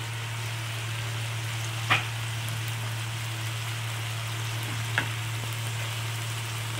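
Spices with mustard paste, turmeric, salt and a little sugar sizzle steadily in a pan for a Bengali-style pomfret curry, making a continuous close frying hiss with two faint knocks and no talking.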